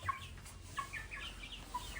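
Backyard chickens in a coop, including white hens, giving short, soft clucks at irregular intervals, fairly close and quiet.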